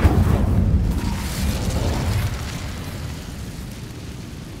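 A fiery Incendio spell cast in the Hogwarts Legacy video game bursts out as a loud, booming whoosh that starts strong and slowly fades into a rumbling roar over several seconds.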